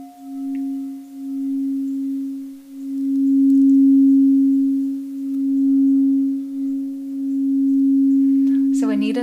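The Earth's 7.83 Hz resonance, raised octaves into the audible range, plays as a pure, steady sine tone in soft repeated swells, close and clear, with a brief rustle at the very end and no talk.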